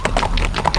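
A horse's hooves clip-clop in a short run of quick knocks, close and fairly loud over a steady background rumble.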